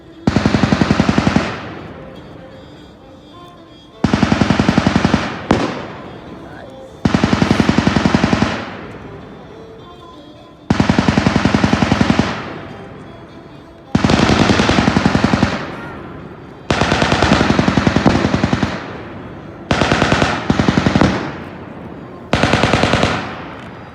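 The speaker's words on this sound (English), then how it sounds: "that's actually a real gun" Real machine gun fired in long sustained bursts, about eight of them separated by short pauses; loud, sharp and rapid, heard at a graduation demonstration of an infantry rifle squad.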